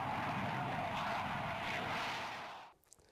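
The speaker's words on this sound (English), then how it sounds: "turns on the rocket engine, and roars forward, nearly breaking the speed of sound" Rocket engine roar of a Me 163 Komet rocket-powered aircraft, a loud continuous hissing blast that cuts off abruptly near the end, followed by near silence.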